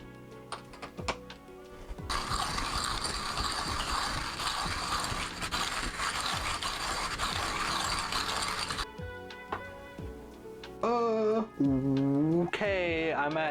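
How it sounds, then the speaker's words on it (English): Espresso beans being ground in a coffee grinder, a steady dense grinding whir lasting several seconds after scattered clicks, then brief tonal squeaks and a voice near the end. "it was so satisfying just grinding beans"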